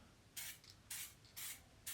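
Compressor-driven sprayer applying adhesion promoter for a truck bed liner, heard as four sharp bursts of hissing spray at steady intervals, each lasting about a third of a second, close and clear with no talking.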